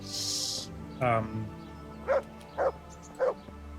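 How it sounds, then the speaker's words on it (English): A dog in the medieval video game Kingdom Come: Deliverance lets out a whimpering yelp and then three short, evenly spaced barks, fairly close, over a low background hum with faint ambient tones. "What you barking?"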